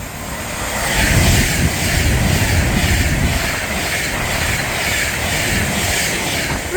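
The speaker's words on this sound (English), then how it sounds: "passing through now is an advanced British Coast Line 390 running from London Euston to Manchester Piccadilly" A British Rail Class 390 electric train runs through Nuneaton station on the West Coast Main Line, giving a steady, loud broadband roar and rumble that holds for several seconds close by, with no voices.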